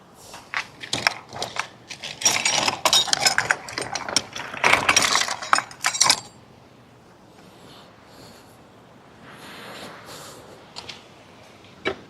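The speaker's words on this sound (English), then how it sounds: "Remove the rear axle nut." Open-ended wrench working a rear axle nut loose, with harsh metallic scraping, clanks and grinding bursts for about six seconds, followed by quieter faint rustling and a final clank.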